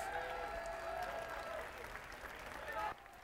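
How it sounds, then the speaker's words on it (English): Applause from an audience thanking the venue hosts at a FIRST robotics competition event, fairly faint and diffuse with a voice over it, cutting off abruptly near the end. "Can we give them a round of applause?"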